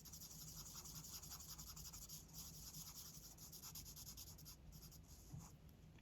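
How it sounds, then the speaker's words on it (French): Felt-tip markers drawn across paper make a continuous faint scratchy rubbing, with quick back-and-forth strokes and nobody talking. "Vous voyez, quand on dessine comme ça, avec les feutres"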